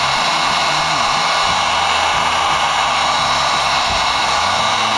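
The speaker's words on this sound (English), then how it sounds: "Now I'm going to get a blowgun, or a heat gun. And I'm going to heat that sucker right up." A heat gun blasting hot air onto a Polaris quad handlebar while installing heated grips, a loud, steady, close-up whoosh that runs without a break for the whole stretch.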